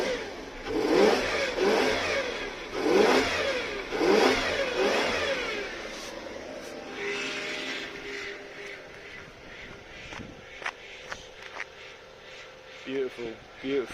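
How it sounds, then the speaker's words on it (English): A 1992 Lexus LS400 engine revs up in a few rising, falling surges near the microphone, then settles toward idle while a power steering pump whines; people talk over it in places. "A little rev."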